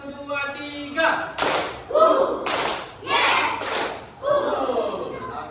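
Children in a classroom clap their hands in short rhythmic bursts, loud and close, with a group chanting counts in Indonesian between the claps.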